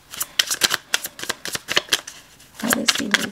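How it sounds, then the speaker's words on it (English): Tarot cards being shuffled by hand in quick crisp riffles and taps, close and clear, with a brief stretch of talk near the end. "let's last shuffle"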